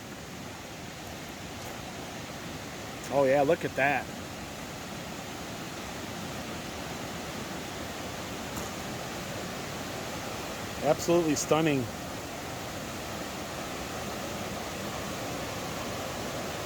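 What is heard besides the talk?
small waterfall in a mountain stream running high after rain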